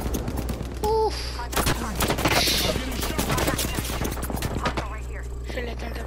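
Rapid gunfire in a shooter video game, bursts of close, crackling shots overlapping into a busy fusillade against a steady low hum, with brief game sound effects mixed in.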